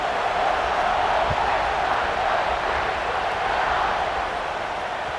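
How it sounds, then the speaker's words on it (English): Large football stadium crowd at Ohio State buzzing after a score, a steady, dense roar of many voices heard from within the stands, holding at an even level throughout. "this crowd is buzzing after that last score"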